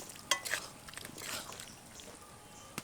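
Cornflour water is stirred into a cauliflower gravy in a pan, with soft scraping and wet clicks of the spoon and a faint sizzle, quiet and close.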